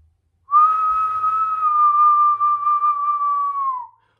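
A person whistles one loud, steady, sustained note for about three seconds, close and clear against silence, dropping slightly in pitch at the end.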